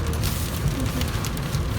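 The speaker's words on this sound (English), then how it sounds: "now we're gonna sit and wait for the hail to stop" Hail pours down outdoors in a steady, dense patter of small impacts, a continuous broadband hiss with no voices, as a backpacking group waits for the storm to pass.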